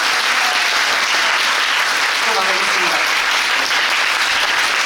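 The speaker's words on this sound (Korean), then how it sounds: "마지막 공연을 해주신 세 분께 다시 한 번 큰 박수 부탁드릴게요" Audience applause for the cast after the final performance of a musical, steady dense clapping filling the room throughout, loud and close, with a few faint voices mixed in.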